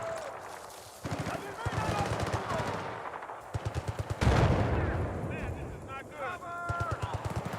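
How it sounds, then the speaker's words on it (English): Rapid machine-gun bursts and scattered gunshots ring out in a Battlefield 6 multiplayer firefight, with loud bangs repeating in quick rhythm over a busy battle bed while voices call out throughout. "We're under fire!"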